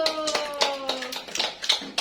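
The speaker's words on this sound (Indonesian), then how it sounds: "Tepuk tangan dulu." Children in a primary school classroom clap their hands together in a quick, uneven burst of applause for a classmate, fairly close, with a voice talking over it.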